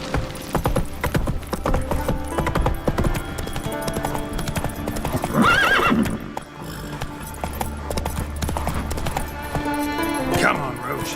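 Geralt's horse Roach in The Witcher video game clip-clops along at a trot and lets out a neigh midway, hooves rhythmic and close under game music, with a voice speaking over it.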